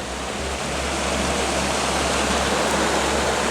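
Water in a mountain lake and river in Sardinia flows with a continuous broadband rush and low rumble, steady and fairly close throughout, with no voices.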